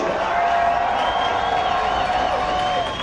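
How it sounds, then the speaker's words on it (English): Arena crowd before a hockey game between the Santa Rosa Growlers and Ice Raiders, cheering and applauding in a steady, dense roar that fills the whole stretch, with a faint announcer's voice underneath. "let's give a big round of applause to both teams. Make some noise!"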